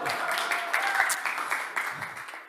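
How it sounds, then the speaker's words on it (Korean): An audience applauds at a Korean church-style gathering, a moderate, steady patter of clapping that stays fairly even and slowly fades, with voices faintly underneath. "박수 한번 주세요."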